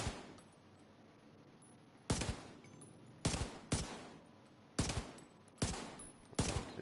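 Gunfire from the Liberty gun in The Division 2: six loud, sharp shots, spaced irregularly with a couple close together, each cracking out over a steady low background.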